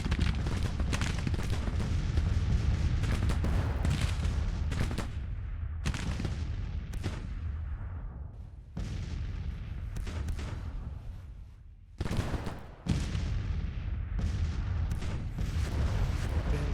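Heavy booming cannon fire in the video game Grand Tactician: The Civil War rolls continuously, dense overlapping blasts with a few sudden breaks and short pauses before the barrage resumes.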